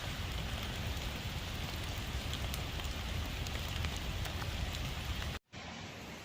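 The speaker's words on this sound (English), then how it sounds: "It's still raining, but that fire is everything." Heavy rain drums steadily on a tent beside a crackling campfire at a wild camp in Scotland, a dense continuous hiss that cuts out abruptly near the end before resuming more quietly.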